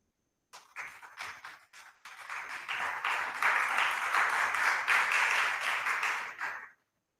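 Applause from an audience welcoming a speaker at a national training program on materiovigilance: a few scattered claps first, then a steady, moderately loud round of clapping that runs for several seconds and stops abruptly.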